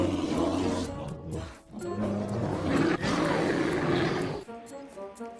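A man on a Pyrenees GR10 mountain hike imitates a bear with his voice, letting out loud, close, rasping growls and roars in two long bursts separated by a short breath.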